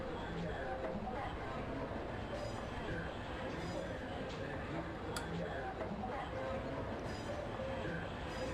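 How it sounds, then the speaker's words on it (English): Train rolling past a trackside camera in the Trainz railway simulator, a steady low rumble with faint rhythmic wheel clicks over several seconds, moderately loud and alone. "after this train gets past this camera"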